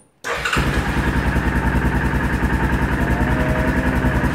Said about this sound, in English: we'll start the bike up